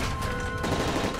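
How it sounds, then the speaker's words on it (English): A brief burst of rapid gunfire in Call of Duty: Modern Warfare 3, loud and dense, with a faint steady tone underneath, like automatic weapons. "That's gunfire!"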